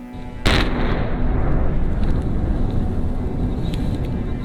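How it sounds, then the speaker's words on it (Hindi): A sudden loud blast hits on the Skardu Road near Jaglot, then a heavy rumbling roar that lingers without fading for several seconds. "और फिर दोपहर 1 बजे के करीब एक जोरदार धमाका हुआ।"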